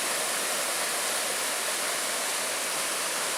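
River water rushes under a trail bridge in the Porcupine Mountains, a steady, dense hiss of flowing current at a level a little higher than in past years, close and continuous with no voices.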